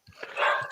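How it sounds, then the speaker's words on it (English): Several rescue dogs barking inside a house, a few sharp close barks running together over about a second. "My dogs are tripping."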